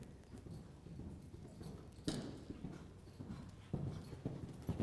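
Horse hooves clip-clop on an arena surface during a show jumping clinic for 2'9"-3' jumpers, a steady run of muffled footfalls with a few louder strikes toward the end, no talk over them.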